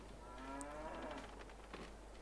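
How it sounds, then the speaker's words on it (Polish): A cow lowing in a farming video game gives one drawn-out, low moo that bends in pitch, moderately loud over a constant background hum. "O, przy okazji tutaj dwie krowy."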